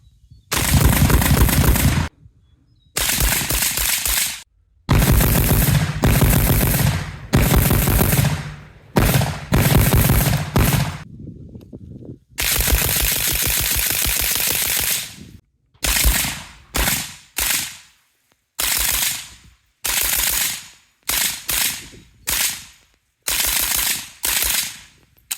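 An Arsenal SAM7K rifle fitted with its OEM piston fires loud, sharp shots close by, first in a few long rapid bursts and then in a string of quick separate shots with short silent gaps.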